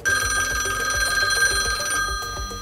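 Electronic telephone bell ringing loudly and steadily in a fast trill, a bright insistent ring heard alone with no voices, ending with a brief fade.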